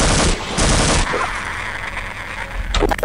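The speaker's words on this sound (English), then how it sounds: "So four shotgun blasts took out that guy." Shotgun blasts in the video game Half-Life: Uplink on hard difficulty, loud booming shots at the start, around 0.6 s and near the end, with gunfire reverb and action noise between them.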